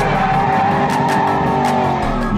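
A Ford Mustang Foxbody with a 302 V8 drifts, its engine roaring loud and close while the tires squeal continuously, with no voices over it.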